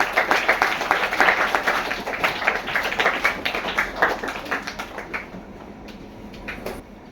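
An audience at a Kannada quiz show claps loudly for a student contestant: dense, sustained applause that gradually thins out and fades toward the end.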